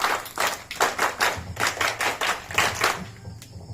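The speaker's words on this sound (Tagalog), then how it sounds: "Scouters, handa palakpak!" Scouts at an elementary school campfire ceremony clap in unison, a rhythmic series of about a dozen sharp group claps in a steady beat that stops abruptly near the end.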